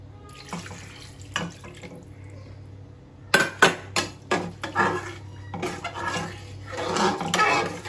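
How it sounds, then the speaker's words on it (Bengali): Water is poured into a pan of mixed fish curry made with mustard oil, with a steady splashing and trickling after some softer kitchen clatter, close and moderately loud, with no talk. "পানিটা দিয়ে দিই।"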